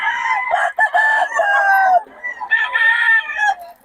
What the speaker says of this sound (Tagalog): Yan, mga manok yan.